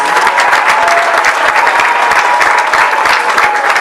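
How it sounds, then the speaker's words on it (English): An audience at an elementary school graduation claps steadily and enthusiastically, a dense, loud wash of applause that holds from start to finish. "let's give them a big round of applause"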